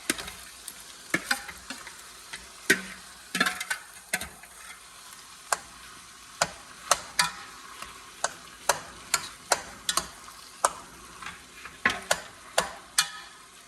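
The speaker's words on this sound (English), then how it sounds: "Mix everything up together." Ground venison being mixed in a hot pan, with a soft sizzle under sharp, regular taps and scrapes of a utensil against the pan, close and steady.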